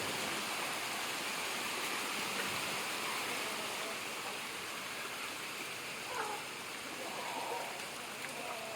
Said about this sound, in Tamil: மழை பெய்ய ஆரம்பிச்சிட்டு ப்ரோ